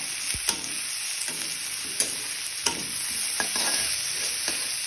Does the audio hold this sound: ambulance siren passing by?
no